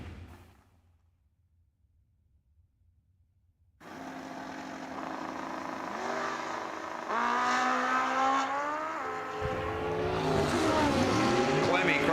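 A Kawasaki drag racing vehicle sits quiet before its engine erupts into a loud, rising roar, the revs climbing in stepped bursts as it launches down the strip, with faint crowd and announcer sound beneath.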